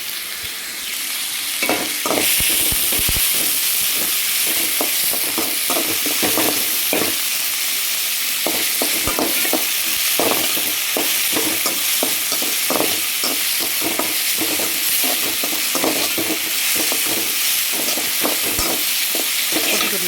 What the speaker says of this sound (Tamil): கொஞ்சம் வதக்கிக்குவோம் நல்லா இப்போ இதுக்கு தேவையான அளவு உப்பு போட்டுக்குவோம்